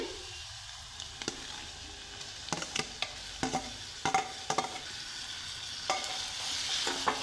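Reddened onion frying in a pan while a spoon stirs it, with a steady sizzle broken by repeated sharp scrapes and clinks of the utensil against the pan, close and clear.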